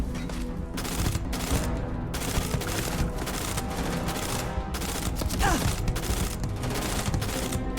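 Gunfire from the space game Starfield, quick repeated shots in steady bursts, fairly loud and continuous over a droning background.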